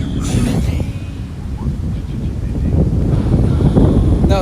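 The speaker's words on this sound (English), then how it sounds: "It's a little windy too" Strong wind blows at the beach in Santa Monica and Venice, buffeting the microphone with a constant loud rumble that swells toward the end.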